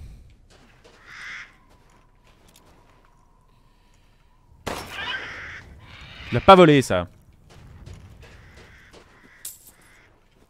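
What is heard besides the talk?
crows cawing in video game Resident Evil Village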